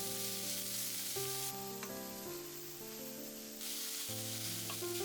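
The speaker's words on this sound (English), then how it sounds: "Then I add the spring onion. I stir fry it." Spring onion stir-frying in hot vegetable oil for miso pork gives a steady, continuous sizzle that holds at even loudness throughout, with layered tonal sounds running alongside it.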